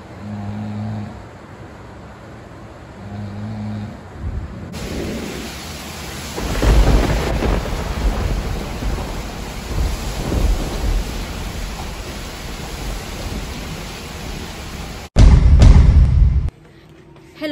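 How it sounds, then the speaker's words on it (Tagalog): Heavy typhoon rain pours steadily onto surfaces while deep thunder rumbles and cracks, one loud close burst near the end, with faint voices in the background. "It's raining."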